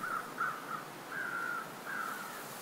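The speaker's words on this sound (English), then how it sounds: "I can hear crows." Crows caw in the survival video game The Long Dark: four or five short, harsh calls at a steady, spaced rhythm, fairly faint and distant over a quiet hiss of wind, with no talking.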